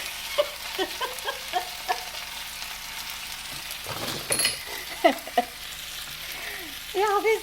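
Food frying in a small skillet while being seasoned and stirred, a quiet sizzle under intermittent clinks and scrapes of a utensil, with brief bits of voice.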